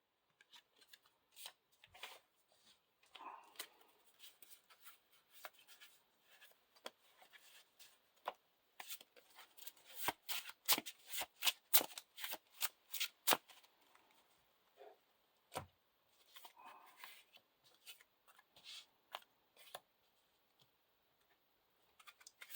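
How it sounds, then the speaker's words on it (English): Rapid bursts of crisp card riffling and flicking as an encounter deck for the Lord of the Rings card game is shuffled, clustered in a dense flurry midway, with sparser clicks and slaps before and after; close, no voices. "Shuffle the encounter deck."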